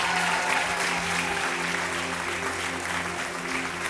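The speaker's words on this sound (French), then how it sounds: "Est-ce qu'on peut applaudir plus fort que ça" A crowd at a Christian worship gathering claps steadily throughout, with sustained applause at an even volume and a low hum underneath.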